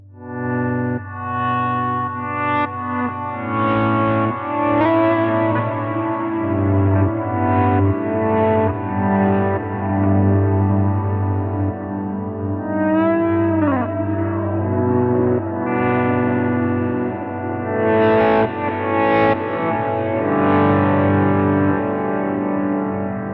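Electric guitar through an EHX Pico Attack Decay pedal, heavily processed, notes sustaining then abruptly cut as each new note starts; loud, continuous, no voices.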